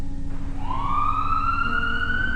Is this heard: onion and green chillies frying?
no